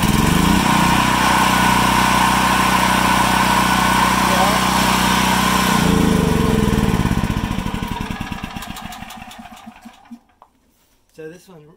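A gas generator engine runs loud and close with a steady droning hum, then winds down over the last few seconds, its pulses slowing as it shuts off.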